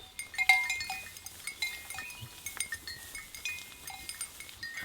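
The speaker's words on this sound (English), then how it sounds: "We heard some bell in front of our little cottage, and it was our cow friends from this morning just going from a walk down that way." Cows ambling past a small farmstay cottage in Kenya, a livestock bell clinking and clanking in irregular rhythm as they walk, fairly close and moderately loud with no talk.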